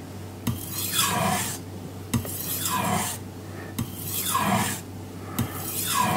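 Carbon steel blade sharpened on a King Deluxe 1000 whetstone: rhythmic, wet gritty scraping strokes, about five passes with brief pauses between, close and clear with no talk.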